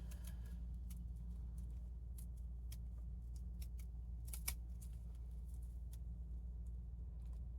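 Scissors snip through folded paper while cutting an owl-design paper snowflake: a series of small, sharp, irregular clicks over a steady low hum in the background, no talking.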